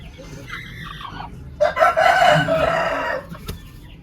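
A broody hen clucks and squawks loudly up close in a burst of agitated calls as it is set on a nest of eggs, with quieter clucking before it.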